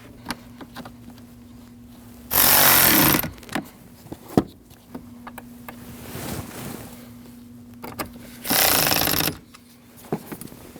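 A power screwdriver drives two screws into the bottom of a 2012-2016 Honda CR-V glove box in two loud, buzzing bursts about six seconds apart, with small clicks and handling noises between them.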